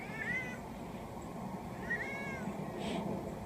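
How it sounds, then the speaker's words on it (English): A sweet house cat meows twice in near succession, the calls bending up and down in pitch, over a steady low background hum, with no talk. "He's actually a really sweet cat."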